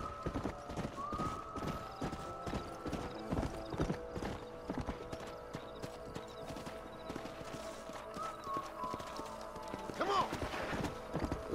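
Horses' hooves clip-clop steadily in a video game, a rhythmic run of close, clear hoof strikes with an occasional whinny, set against background tones and some talking voices.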